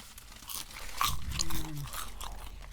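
Crunchy toasted sandwich bread being bitten and chewed close up, with a few sharp crunches in the middle followed by softer chewing, with no talking.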